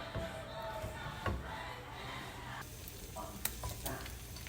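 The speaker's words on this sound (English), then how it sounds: "put beef fat in a hot pan" Beef fat sizzles steadily in a hot pan, a continuous close frying crackle with a few stirring clicks and scrapes over it.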